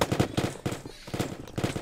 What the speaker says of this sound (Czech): Není to ten tvůj granátomet?